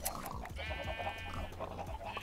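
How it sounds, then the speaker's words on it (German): Sheep bleat in the video game Minecraft Tekkit, a wavering, nasal bleat near the listener over a low, busy background, with no talk. "wir haben Schafe"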